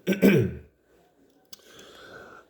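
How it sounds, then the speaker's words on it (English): A single short, gruff throat clearing close up, followed by quiet shuffling and a faint click. "As I clear my throat"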